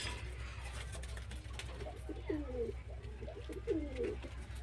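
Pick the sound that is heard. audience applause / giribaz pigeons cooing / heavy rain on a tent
giribaz pigeons cooing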